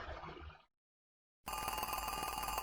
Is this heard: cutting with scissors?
no